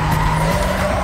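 A Porsche drifts through a corner in Need for Speed Most Wanted, with loud, sustained tire squeal over a steady engine roar. The squeal is brief and carries no speech.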